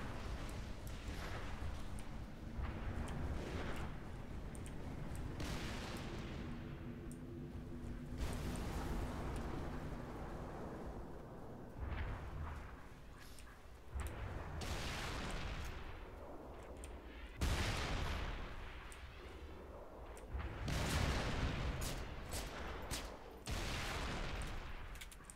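SMG fire from Halo comes in repeated short bursts of sharp, punchy shots, broken by brief pauses throughout.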